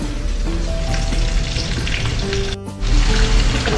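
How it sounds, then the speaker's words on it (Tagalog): Ginger and garlic sautéing in oil in a pan, a loud close sizzle with a brief dip before it surges again, steady crackling texture throughout. "ginisa na po natin yung ating luya at yung bawang"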